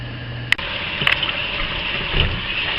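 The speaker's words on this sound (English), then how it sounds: "I'll then run cold water over that from the sink" Cold water runs from a kitchen sink tap over a colander holding potato slices, a steady close gushing stream with a couple of sharp clatters early on.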